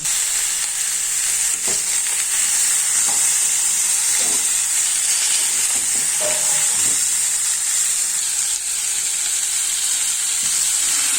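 Steady, loud sizzling of fish frying in hot oil, a continuous crackling hiss with occasional sharper pops throughout, no voices.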